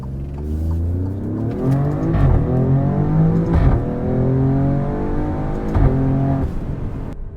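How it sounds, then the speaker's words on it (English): A 2020 Alfa Romeo Stelvio Quadrifoglio accelerates hard in manual mode, the engine revving up through several quick gear shifts, each marked by a sharp sputtering crack, loud and close from inside the cabin. "You can hear the sputtering on those gear shifts as this car just sets you back in your seat."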